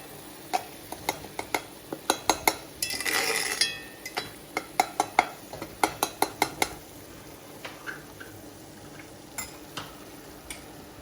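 Utensil scraping and clinking against a cast iron pan while vegetables are stirred for a chicken and vegetable stew, with repeated sharp metallic taps in irregular rhythm, a brief burst of sizzle-like hiss, and quiet frying underneath, close and alone without talk.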